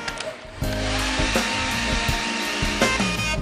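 A hair dryer blows on wet acrylic paint on a country-style apple painting, giving a loud, steady, close whoosh and whine with a few brief shifts in pitch as it is moved.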